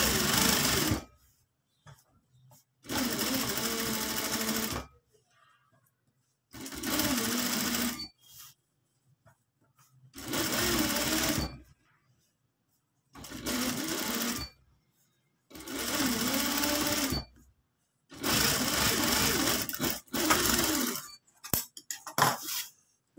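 A sewing machine stitches a simple shirt in about seven separate runs of steady, close mechanical whirring, each a couple of seconds long, with short silent pauses between them.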